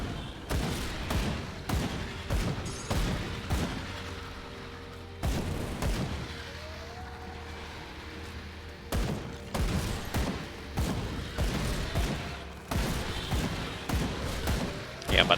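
Dual pistols firing in Grim Dawn, wielded by a Purifier: bursts of sharp, loud shots in uneven clusters, with short lulls between volleys and a muffled voice talking underneath.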